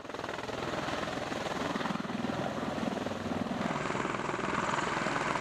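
V-22 tiltrotor aircraft of the Marines flying during an emergency landing drill, a loud, steady rotor and engine roar with broadband wash that holds throughout without pause.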